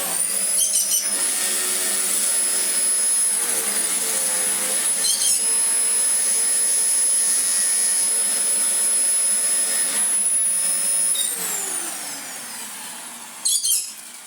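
A Dyson DC04 vacuum cleaner with a clutch fault runs at close range, a loud steady high-pitched whine that holds, then winds down near the end before a brief knock.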